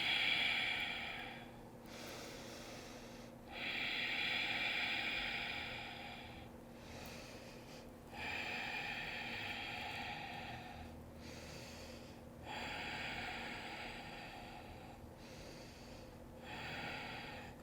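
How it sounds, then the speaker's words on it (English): Slow, deep breaths through the nose during a held yoga pose, roughly five long airy inhales and exhales of a few seconds each, close and steady with no talk. "5 breaths here."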